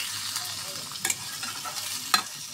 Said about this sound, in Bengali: পেঁয়াজটা নরম করে ভেজে নিছি।